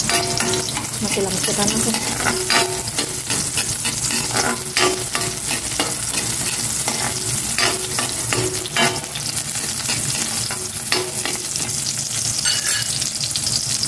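Sliced onions fry and sizzle loudly in a hot pan, with repeated scraping stirs punctuating the steady crackle; a voice briefly speaks over the cooking.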